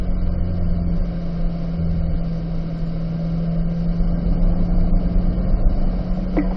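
Car engine on a race track, a loud steady droning hum throughout with a constant low tone and no talking.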